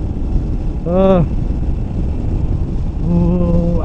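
A Royal Enfield Himalayan adventure tourer motorcycle cruising with a steady low engine rumble buried under heavy wind buffeting, with a voice briefly speaking over the ride twice.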